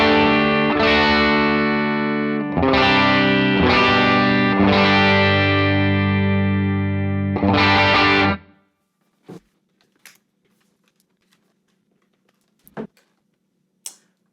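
An electric guitar with stock pickup height plays a few loud, distorted sustained chords close up, then cuts out, leaving near silence with a few faint clicks.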